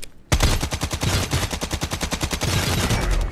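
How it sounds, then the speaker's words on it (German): Rapid automatic gunfire from behind the player in the video game Lost Light, a loud, dense string of evenly spaced shots that starts abruptly and continues steadily without pause. "Hinter uns Schüsse auf uns."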